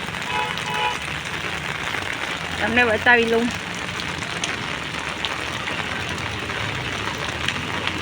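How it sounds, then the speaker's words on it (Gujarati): Heavy rain falling steadily over waterlogged ground in Vagda village, a constant broadband hiss across the whole clip, with someone speaking briefly near the middle. "વગદા ગામમાં આજે બહુ જ વરસાદ પડ્યો છે"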